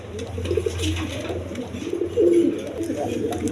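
Pigeons cooing at a farm loft, fancy breeds among them, with low repeated coos rising and falling close by, a few louder calls near the middle, under a steady murmur of background noise.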